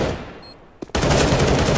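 Gunfire in the tactical shooter CS:GO on the Dust map, heard as a sharp report and then a sudden loud, dense burst of sustained firing that fills the rest of the moment.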